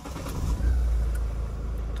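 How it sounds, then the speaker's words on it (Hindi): A Mahindra Marazzo car engine cranks and catches during key programming, settling into a steady close rumble for about two seconds with no voices. "तो गाड़ी स्टार्ट हो गया"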